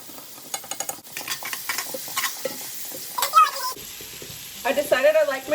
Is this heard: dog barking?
no